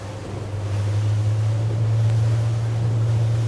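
An Axopar 25 AX/E electric boat picks up speed on the water: a steady low electric-motor hum swells in loudness over a few seconds, with a soft rush of water and wind behind it and no voices.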